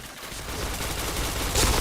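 Rapid video game gunfire crackles in a dense, continuous burst, loud and close, with a sharper hit near the end, and no talking over it.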